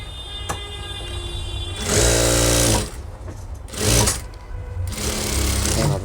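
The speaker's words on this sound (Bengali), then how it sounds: "সুন্দর করে সেলাই দিয়ে নিতে হবে এখানেও ডবল সেলাই দিয়ে নিতে হবে" A sewing machine double-stitching children's school pants runs in several bursts, loud and close, with quieter pauses between runs and no voices.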